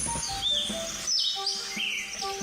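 Wild birds, including a flautim, caught in a net for examining and banding, give clear whistled calls: several rising and sliding notes, close and distinct, one after another with no talk.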